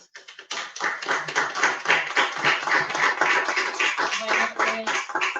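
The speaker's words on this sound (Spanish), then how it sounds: "me gustaría que le diéramos un fuerte aplauso a Astrid" A small audience at a poetry book presentation applauds a poet, with sparse, distinct claps at first that settle into a moderate, uneven round of close clapping in a quiet room.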